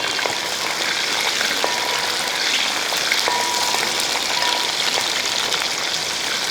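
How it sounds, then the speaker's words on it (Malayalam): Ginger, garlic and green chilies fry in oil for lemon pickle, giving a dense, even hiss like heavy rain that runs the whole time, close and fairly loud, with faint scattered clicks of stirring and no speech. "ഇതെല്ലാം ഒന്ന് മൂക്കട്ടെ അതായത് ഇഞ്ചിയും വെളുത്തുള്ളി പച്ചമുളകും ഒക്കെ ഒന്ന് മൂത്ത് വരും"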